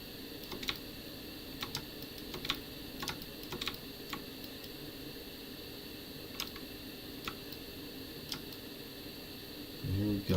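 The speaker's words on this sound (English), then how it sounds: "I like this new keyboard because it does have like that typewriter feel to it." Someone types on a computer keyboard with a typewriter-like feel, producing sparse, crisp clicks and short bursts of keystrokes, faint against a steady hum, with a brief low voice at the very end.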